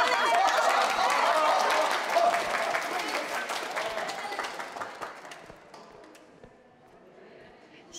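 Wedding guests burst into loud, dense applause indoors. The clapping stays strong for several seconds, then thins out and fades to a few scattered claps.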